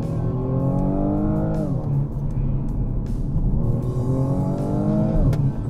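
BMW M235i Gran Coupé engine in sport mode accelerating hard, a loud, raspy rising drone that climbs through the revs, drops at a gear change, then climbs again to a second peak.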